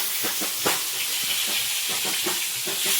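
Pieces of snakehead fish fry in hot oil with a loud, continuous sizzling hiss and small crackling pops, close up and steady, with no talk.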